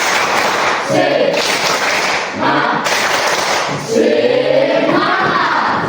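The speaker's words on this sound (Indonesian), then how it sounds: "Tepuk semangat." A class of students does a rhythmic spirit clap during a physical education lesson, loud bursts of group clapping mixed with voices chanting along, several sections separated by short pauses.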